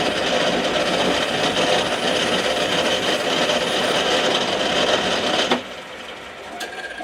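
A lathe drills a hole 250 thou deep with a tailstock-fed drill in a scratch-built Gauge 1 live steam model part, giving a steady, loud mechanical whirr and grind that stops abruptly near the end, leaving a quieter hum.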